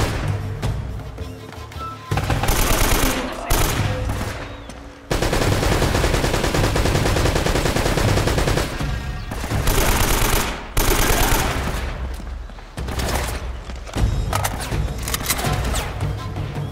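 Rapid bursts of machine gun fire in the video game Uncharted rattle loudly and almost continuously, with brief pauses between volleys and a few heavier thuds mixed in.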